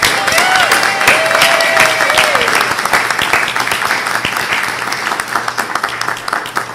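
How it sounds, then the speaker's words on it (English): A church congregation at an annual meeting breaks into loud, sustained applause, a dense roar of many hands close by that holds steady throughout, with a brief whistle-like tone early on. "let's give them a loud roar of applause that they can hear all the way down the building"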